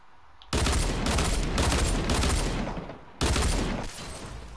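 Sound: hand cannon gunfire in a video game

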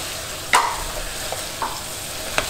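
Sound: sauteing pumpkin and lemongrass for tom yum broth

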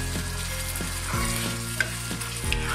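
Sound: frying spice paste (mutton kosha), stirring in pan

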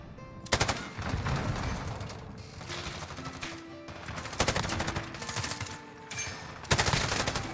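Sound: Encryption MK9 LMG firing in Modern Warfare video game

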